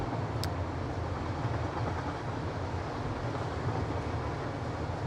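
A steady rolling rumble of a Satisfactory train on its track fills the scene, constant and near, with a single brief tick early on.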